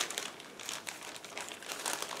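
Plastic bag holding 1/72 scale model kit parts crinkles and rustles as it is opened, close and fairly soft, a continuous scratchy crumpling with no speech.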